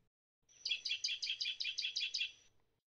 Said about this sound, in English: here is an unhealthy medium tree finch